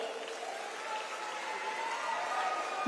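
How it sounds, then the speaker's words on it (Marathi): Audience clapping at a political rally in Maharashtra after a BJP speech, a steady dense wash of applause from a crowd that holds level and swells slightly toward the end, with no talking over it. "जोरात टाळ्या झाल्या पाहिजेत"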